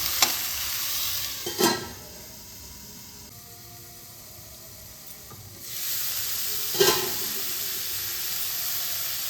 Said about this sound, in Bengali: এবার আমি পাঁচ মিনিট কুক করতে দেবো ঢাকনা চাপা দিয়ে